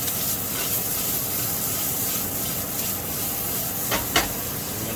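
Steady, close sizzling and hissing of asparagus frying with sausage and hot sauce in a pan, continuous throughout with a couple of brief sharper spits near the end, no voices.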